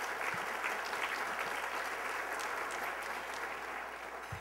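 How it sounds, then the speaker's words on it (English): An audience at a World Trade Week event gives sustained applause, a dense even wash of clapping that holds steady at moderate loudness throughout. "give her a great applause"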